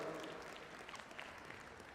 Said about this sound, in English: Why don't you give him a big round of applause for that?